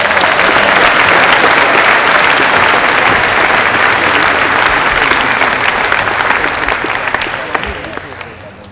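A large convocation audience at a Thanksgiving event gives loud, continuous applause for two rehearsing groups, a thick, even roar of clapping that holds steady before tapering off near the end.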